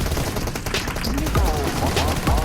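Rapid PUBG Mobile gunfire rattles loud and close in short bursts, with game voice cues and whooshing effects mixed in.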